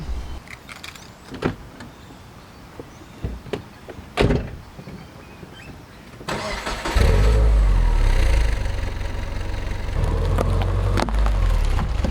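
A Subaru Forester makes a cold start: a few door clunks and rustling come first, then the engine cranks and catches into a loud, steady rumbling idle that carries to the end.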